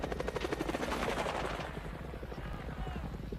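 Napalm scorestreak in the shooter game Call of Duty Mobile: an aircraft roar with rapid rattling bursts and crackling fire, loud at first and easing into a dense burning rumble, with a voice talking over it.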